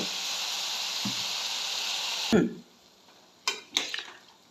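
Water hits potatoes cooking in a pan, giving a loud steady hiss and sizzle that suddenly cuts off with a clatter. Quiet follows, broken by two more brief bursts of sizzle and clatter.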